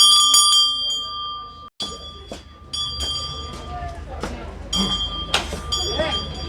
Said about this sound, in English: This bell is one of the last bells to come out of the Whitechapel Bell Foundry.